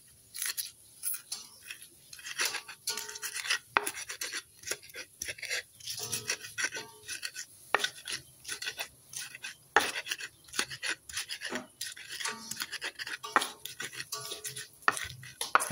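Shallots and bird's eye chilies are ground in a mortar, a busy, irregular run of close pounding, scraping and crushing strokes that continues throughout at moderate volume, with no talking.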